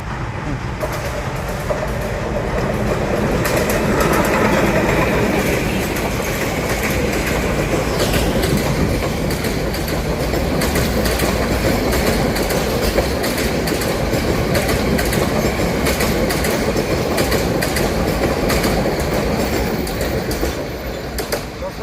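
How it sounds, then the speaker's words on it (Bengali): A train arriving at Izzatpur railway station, Sreepur, Gazipur rumbles loudly and continuously nearby, wheels clattering in a steady rhythm with occasional squeals over a deep roar. "এখনই একটি রেল আসতেছে"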